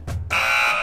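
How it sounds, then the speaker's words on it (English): A harsh electronic buzzer sounds once and holds steadily after a short blip, loud and close, with no talk over it. "That's the buzzer."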